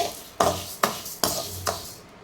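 Grated coconut and rice roast in a pan while a spoon stirs and scrapes it in four evenly spaced strokes, each a short gritty swish over a soft background sizzle.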